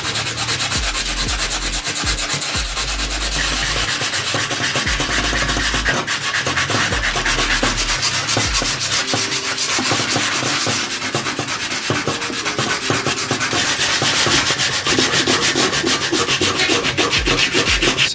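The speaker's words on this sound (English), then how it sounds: "now I'll go ahead and sand down both pieces with the 120 grit" Faded metal roof trim from a BMW E90/E92 3-Series is sanded by hand with 120 grit sandpaper, a continuous close scratchy rubbing in quick repeated back-and-forth strokes, with no talking.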